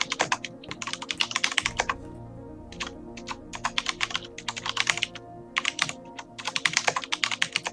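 A computer keyboard typed on rapidly in bursts of dense clicking, close and clear, with short pauses between runs of keystrokes and a faint steady hum beneath.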